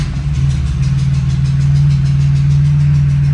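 A fuel-injected 1977 Porsche 911 Targa engine catches and settles into a steady, loud, close idle with a low, even hum throughout.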